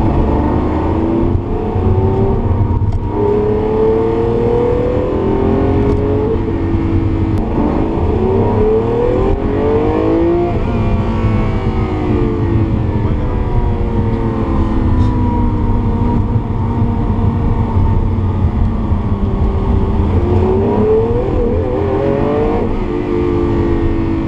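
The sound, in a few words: Lamborghini engine revving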